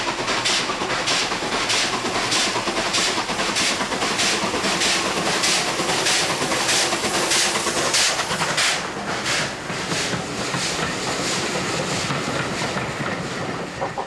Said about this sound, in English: This is easy work for a mainline loco like 34101, which has plenty of power to spare,